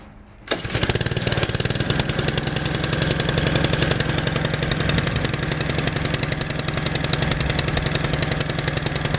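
A gas-powered pressure washer engine pulled into life after a brief quiet moment, catching abruptly and then running at a loud, steady, rapidly pulsing idle close by.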